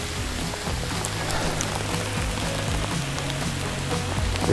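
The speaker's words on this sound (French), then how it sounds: "Mais c'est de la grêle." Hail falls in heavy rain outdoors at a fishing spot, a steady dense hiss of downpour scattered with sharp ticking impacts throughout.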